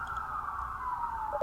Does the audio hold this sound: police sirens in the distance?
yes